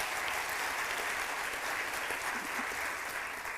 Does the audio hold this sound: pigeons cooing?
no